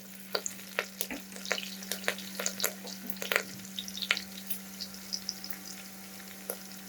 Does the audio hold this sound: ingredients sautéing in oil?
yes